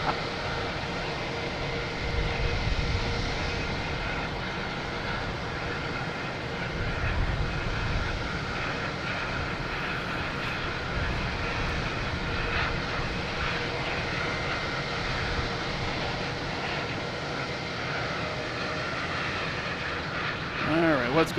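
An American Airlines jet takes off at Boston Logan Airport, a steady, moderately loud engine roar with a rumbling low end holding throughout, and voices talking over it.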